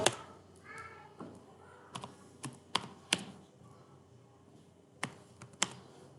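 Typing on a computer keyboard while entering a value into a database form: scattered, sharp key clicks, close and quiet, arriving in short irregular groups with pauses and faint background sounds.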